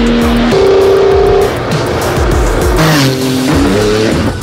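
Porsche sports car with a 3.8-liter flat-six engine accelerating hard, its loud engine note rising through gears with tire squeal, close and continuous with no talk.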